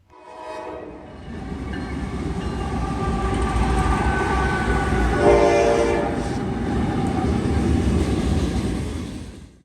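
Norfolk Southern freight train 170 passes eastbound through town, with a horn blast near the start and again midway over a loud, sustained rumble of locomotives and rolling cars. The clatter holds close throughout, then drops away at the end.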